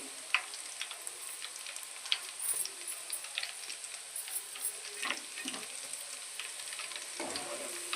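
Dried red chilies frying in hot oil for an amla pickle, a faint continuous crackling sizzle with small pops scattered throughout, no voices.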